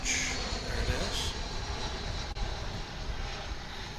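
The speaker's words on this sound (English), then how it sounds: "we've got an American flight coming in from Austin, Texas" An American Airlines jet arriving at Dallas/Fort Worth International Airport on a flight from Austin, Texas, with a broad, steady roar of engine and air noise heard from a distance, holding at an even level throughout.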